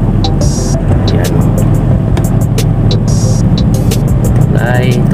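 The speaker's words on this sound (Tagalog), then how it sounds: "traffic na nga dito sa tulay" Traffic crosses a bridge over the Pasig River, a loud continuous rumble of car and motorcycle engines with passing vehicles and occasional sharp clicks, while someone talks over it.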